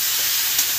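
Tomatoes frying with turmeric, salt and dried chillies in a pan give a close, steady sizzling hiss while being stirred, brief and even with no voices.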